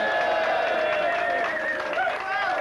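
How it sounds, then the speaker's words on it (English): Applause and cheering rise from a crowd at a 1994 HMS Resolution ship's concert show, a dense continuous wash of clapping heard fairly close, with voices mixed into the noise. "I think it deserves a round of applause."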